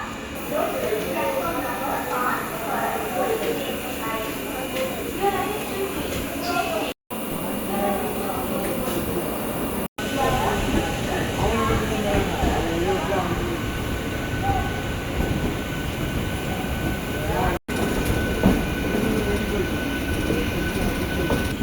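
A Thiruvarur MEMU passenger train pulls out of Tambaram station, with a steady rolling rumble, rattling carriages and occasional wheel squeal, continuous and close throughout, with voices faintly mixed in.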